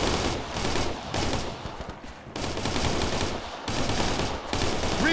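Sustained automatic suppressing fire in the military shooter Operation Flashpoint: Red River comes as four long, loud bursts of rapid gunshots separated by brief pauses.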